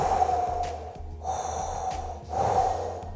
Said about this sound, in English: she would hear dark breathing